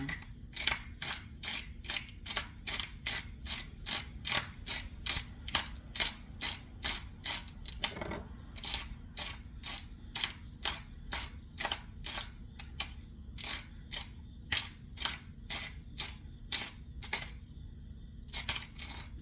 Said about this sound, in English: And we need 1/4 of a teaspoon of white pepper. Oh, I'm going to be grinding this for a while.